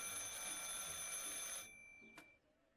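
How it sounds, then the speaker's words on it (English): An electronic telephone ring in the video game Martha is Dead trills steadily at moderate volume, then cuts off abruptly partway through, leaving near-silence broken by one brief click. "You wouldn't know that the phone is ringing."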